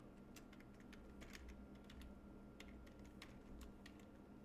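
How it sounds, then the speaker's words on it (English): Quiet, steady typing on a computer keyboard indoors, a continuous patter of light clicks at an even rhythm over a low background hum. "So like I'm just typing."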